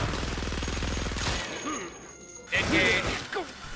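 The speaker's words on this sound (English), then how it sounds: "Glacier's actually managed to kill me a second time with the SMG because the burst on that thing is amazing" A rapid SMG burst in the shooter game The Showdown Effect: a tight string of fast, loud shots for just over a second, followed by crashes, whooshing effects and scattered impacts.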